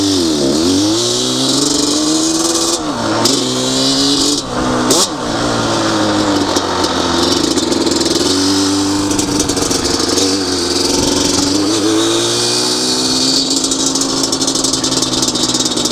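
A Yamaha Banshee quad's two-stroke engine runs steadily just after a wet clutch change, loud and close, idling with a few brief throttle blips and a rattly buzzing tone throughout.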